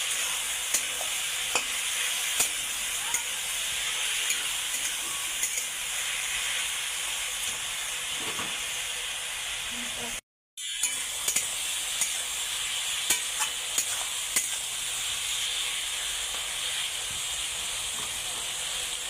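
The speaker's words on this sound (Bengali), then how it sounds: "এখন এটা সুন্দর করে একদম ভাজা ভাজা করা হবে।" Mutton with turmeric fries in a pan while being stirred, giving a continuous close sizzle and hiss with scattered scraping clicks and a brief silent gap partway through.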